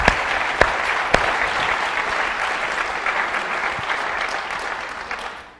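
Audience applause at a Tomb Raider: The Angel of Darkness press conference, a steady wash of clapping from a crowd that holds for several seconds with a few sharper claps standing out, then fades at the end.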